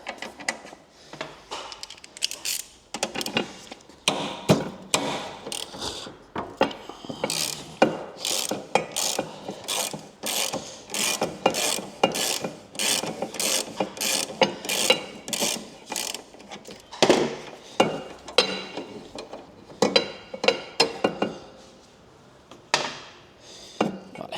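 Rapid ratcheting clicks of a hand wrench loosening the shock absorber and center bolts on a Yamaha NMAX 125 scooter, close and loud, in repeated bursts with short pauses between strokes.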